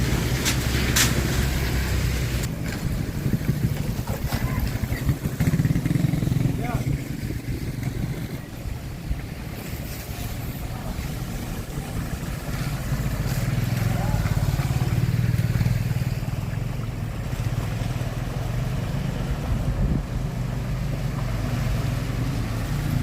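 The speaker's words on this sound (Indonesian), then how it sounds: "Dan kendaraan pun harus memilih-milih untuk melintas." Vehicles, motorbikes and heavy trucks among them, cross a flooded bridge between Tanah Jawa and Siantar, with a continuous engine drone and churning water rumble that swells and fades as they pass, while a voice talks over it.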